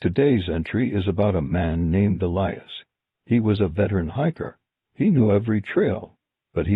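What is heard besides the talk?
No everyday noise stands out behind the speech.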